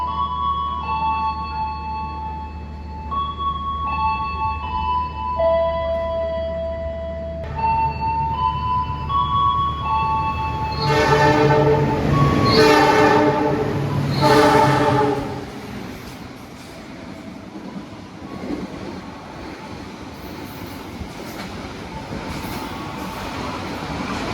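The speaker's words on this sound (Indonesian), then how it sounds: "Dan ini dia kereta api Purwojaya," A Purwojaya passenger train approaches and passes a station platform, sounding a loud sustained multi-tone horn before the roaring rumble and wheel noise of the carriages build and fade, with no talk.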